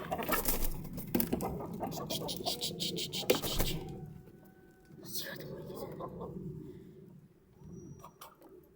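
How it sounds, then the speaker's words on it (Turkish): Hens cluck and squawk close by in short irregular bursts in a coop, with a person talking over them throughout. "Bak durun tavuklar durun."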